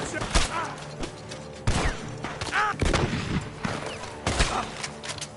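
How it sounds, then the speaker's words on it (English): Gunfire in Red Dead Redemption 2 from a barn: several sharp, loud shots at irregular intervals, mixed with game sounds and voices. "The gunshots are coming from that barn."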